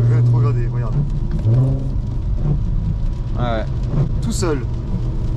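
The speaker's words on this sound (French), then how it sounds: "je repasse la 4 et je te fais un talon pointe en 3" Under a man's speech, a Volkswagen Golf 5 R32 engine drops from fourth into third gear with a heel-toe downshift, giving a couple of quick rising throttle blips over a steady road rumble.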